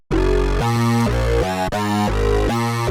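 Arturia MiniFreak synthesizer patch with wave shaping, distortion and super unison plays a thick, detuned, buzzing riff of several held notes stepping up and down in pitch, loud and continuous, with no talking.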